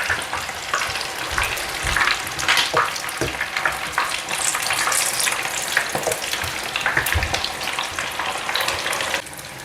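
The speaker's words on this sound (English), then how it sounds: "Now scoop in your batter and allow to fry." Akara bean batter frying in hot oil, a steady close dense sizzle and crackle lasting throughout with bursts of bubbling, no voices.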